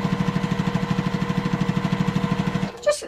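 A sewing machine stitches bias tape along the edge of a fabric bunting pennant, a loud, fast, even mechanical chatter running steadily before stopping abruptly, followed by a brief clunk.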